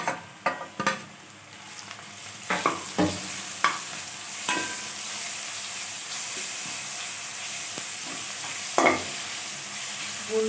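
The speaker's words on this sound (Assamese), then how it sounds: "এয়া এতিয়া আদা নহৰু ভাজি হৈ গ'ল।" Ginger and garlic frying with onions in a pan for chicken biryani, a steady close sizzle broken by scraping stir strokes at irregular intervals, with no talking.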